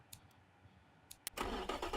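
A car engine in the racing game Automation turns over and fires up, a few short clicks followed by a rising, rough mid-pitched idle that settles in, close and fairly quiet.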